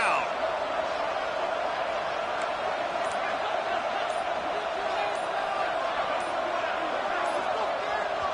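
A steady, dense roar from a stadium crowd at a football game on a defensive third down in a college football video game, sustained and loud throughout.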